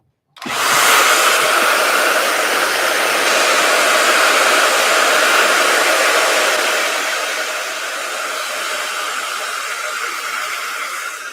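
A hair dryer blowing hot air switches on abruptly and roars steadily up close, easing slightly in loudness toward the end as it keeps running.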